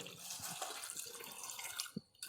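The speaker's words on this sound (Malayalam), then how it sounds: "ആവശ്യത്തിന് വെള്ളം ഒഴിച്ചു കൊടുക്കുക." Water runs and trickles steadily into a cooking pot at close range, with a few dripping splashes and a brief pause near the end.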